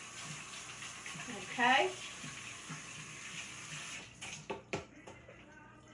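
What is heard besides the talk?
water tap running while rinsing hands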